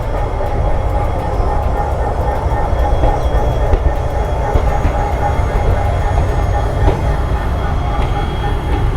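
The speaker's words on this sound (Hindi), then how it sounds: "सामने आप देख सकते हैं इंडियन रेलवेज़ का सबसे पावरफुल लोकोमोटिव" An Indian Railways locomotive and express train run steadily, with a loud continuous rumble and rolling wheel noise throughout, close and unbroken.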